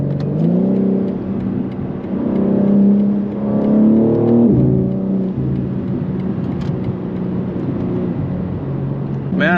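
A 700hp BMW G80 accelerates and shifts through gears, its engine rising in pitch, falling abruptly at each change, then climbing again, loud and close from inside the car.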